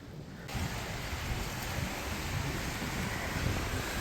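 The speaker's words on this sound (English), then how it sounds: "Damn, there's waves." Waves wash steadily on open water in Yellowstone National Park, a continuous rushing surf mixed with wind buffeting the microphone, loud and close for the whole stretch with no voices.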